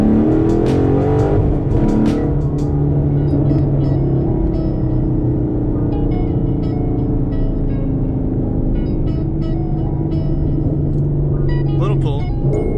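A Ford Mustang's engine pulls hard, its loud throaty rumble rising and holding steady from inside the car, with people talking over it.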